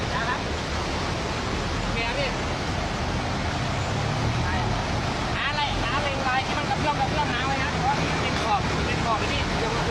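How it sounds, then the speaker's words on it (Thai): A six-wheel truck pushes a stuck vehicle from behind, its engine a steady, loud, broadband rumble mixed with wind buffeting throughout. "ถึงเขาถึงขนาดใช้หกล้อดันท้ายกันเลยนะครับ"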